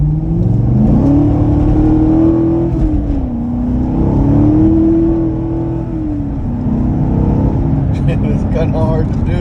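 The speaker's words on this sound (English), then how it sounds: "Tires are spinning, and because tires are really cold" A 2014 C7 Corvette Stingray spins and squeals its cold tires as the engine revs up and down, loud and continuous, with a faint voice briefly near the end.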